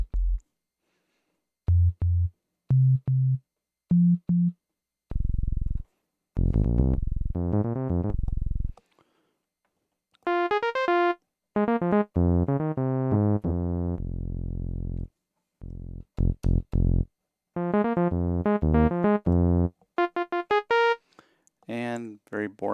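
Yamaha TG33 synthesizer playing saw wave tones, a series of separate buzzy held notes and short bursts of varying pitch with silences between them, loud and close, with no voice over them.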